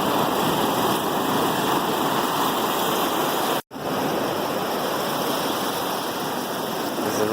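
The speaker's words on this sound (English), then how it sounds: "Waves coming in pretty good. Watch it comes up against the rocks here." Ocean waves at St. Pete beach surge against rocks in a loud, continuous roaring wash, broken by one abrupt momentary dropout midway before the steady rush resumes.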